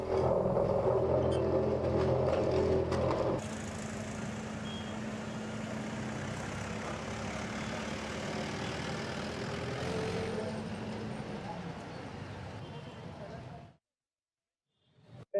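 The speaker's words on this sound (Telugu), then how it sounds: "ఇక జిల్లా ఎస్పీ రూపేష్ నేతృత్వంలో కలెక్టరేట్ వద్ద రోలర్తో తొక్కించి ధ్వంసం చేశారు." A road roller crushes a pile of seized motorbikes outside a district collectorate: a loud, steady heavy-engine rumble with grinding noise runs for about fourteen seconds, with voices in the opening seconds, then cuts off abruptly.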